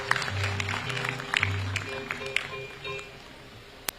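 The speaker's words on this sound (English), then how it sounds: "Clap for him again." Audience applause at a university graduation ceremony in Kampala, Uganda, faint, scattered claps spread across the moment, with low tonal hum and murmur underneath.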